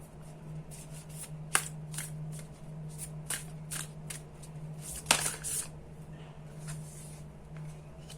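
Close, steady hand-shuffling of a tarot deck, soft papery riffles and taps in an uneven rhythm, with two sharper slaps partway through over a low constant hum, no speech.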